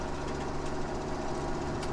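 A tractor engine in Farming Simulator 17, rated at just over 100 horsepower, labors under a heavy load with a continuous, loud, rough drone and no talking.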